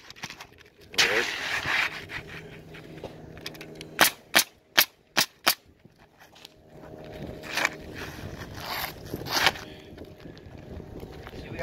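A pneumatic nail gun drives nails, with five loud, sharp cracks in quick succession. Quieter rustling and work noise fill the surrounding moments, and further air hisses and thuds follow.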